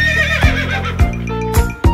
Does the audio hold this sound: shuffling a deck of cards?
no